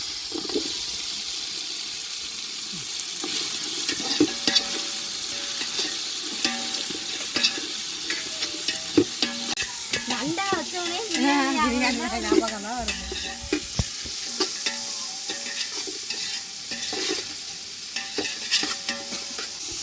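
Chopped onions sizzle and fry in hot oil in a village kitchen while a spoon stirs them through the pan, a steady broadband crackle with scraping strokes and brief bubbling.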